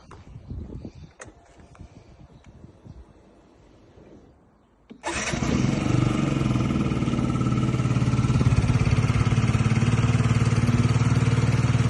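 A Yamaha Jog SA39 ZR fuel-injected scooter engine with 1,800 km starts abruptly partway through, then settles into a steady, loud idle that runs on without change until the end.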